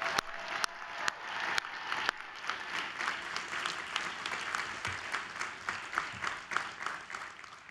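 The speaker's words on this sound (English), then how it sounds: "Let's have another round of applause for Caitlin" An audience at a graduation morning ceremony applauds after a speech, a steady wash of clapping with a few sharp, close claps standing out near the start.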